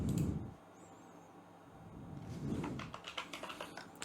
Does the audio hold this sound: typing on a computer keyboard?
yes